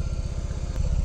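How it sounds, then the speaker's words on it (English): A motorcycle being backed up through a quiet neighborhood, its engine idling low with a steady, even pulsing throb, close and constant with no voices. "balancing a motorcycle going in reverse is weird"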